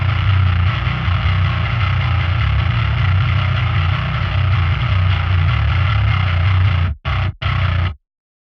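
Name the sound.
mixed bass guitar tone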